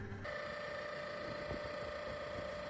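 An electric boat outboard motor running at half throttle, drawing 3.6 kilowatts, hums with a constant whine and a low droning undertone, running evenly without pause.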